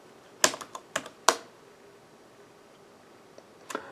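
Typing on a computer keyboard, a few sharp, close key clicks in a quick burst, then a pause before one more faint tap, in a quiet room.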